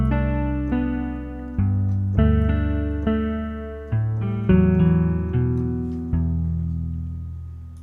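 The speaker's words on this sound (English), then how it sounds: "So here's the Peel Ensemble. You can hear that chorusing effect." A Peel Ensemble guitar ensemble instrument in Labs plays sustained chords with a shimmering chorus effect, changing chord several times, loud and clear with no voices.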